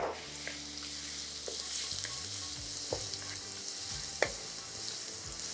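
Onions with salt and slit green chilies fry in a pan with a soft, continuous sizzle. A few clicks of stirring come through, and a low background hum runs underneath; no speech.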